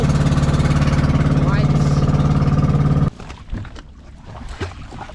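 A motor boat engine drones loudly and steadily up close, then cuts off abruptly midway, leaving quieter rustling and water noise.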